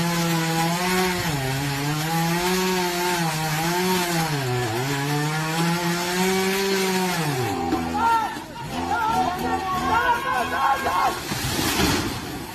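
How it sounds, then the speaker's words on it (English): A chainsaw cuts into a tree in a video game, a loud, continuous buzzing drone whose pitch dips and rises as it bites through the wood, then turns into rougher, grinding cutting noise toward the end. "I could show you some video of the chainsaw stuff going on."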